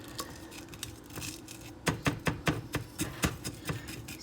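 Dried, crystallized cannabis sugar is chipped at in a small batch, giving a run of sharp clinks and scrapes that turns into a steady, evenly spaced tapping over faint background noise.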